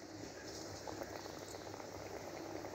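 Onion pakoras deep frying in hot oil in a kadhai, a steady, dense bubbling hiss that holds evenly throughout at moderate level, with no talking.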